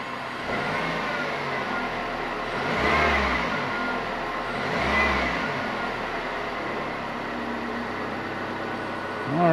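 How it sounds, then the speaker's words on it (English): A car engine, under diagnosis for a lean P0171 fault, idles steadily and then rises in two short throttle blips, swelling and falling back each time, close and moderately loud with no talking. "I'm going to give it a little bit of throttle."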